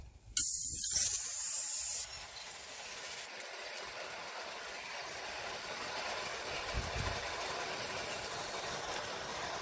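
Water spray rinses rubbing compound off a car headlight during restoration, a steady close hiss running continuously after a brief louder burst at the start.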